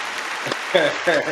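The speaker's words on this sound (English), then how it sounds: "Clap it up for Mom Dukes, man" Brief scattered clapping from a small group on a live music review show, running beneath a voice talking over it.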